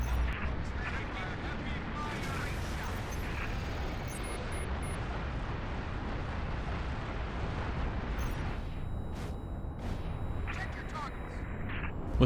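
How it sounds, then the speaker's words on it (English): Missiles are fired at Phantoms in the Halo Reach video game in a constant, dense barrage of booming blasts and rumble over a dozen seconds, with a spoken voice running underneath. "just go ahead and go in a distance and just start spamming missiles"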